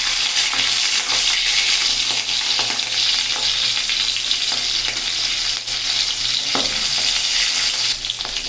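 Green chilies sputter in hot oil with cumin and Bengali five-spice, a continuous loud frying hiss with occasional stirring scrapes and pops, no voices.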